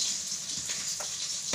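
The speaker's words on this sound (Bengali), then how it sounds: "মাছটাও ভাজা হয়ে এসছে আমার।" Bhola fish frying in a pan of oil, a steady close hiss of sizzling with a few brief soft spatters and clinks.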